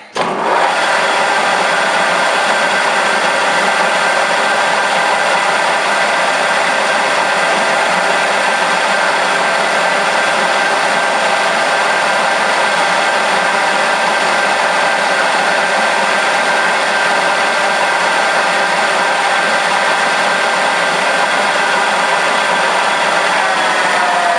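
A milling machine cuts splines into a shaft, giving a loud, steady, unbroken machining roar with a constant high whine that holds unchanged from start to finish.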